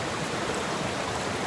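A small stream of water flows with a steady, broad rushing hiss, continuous and fairly close, with no voices over it.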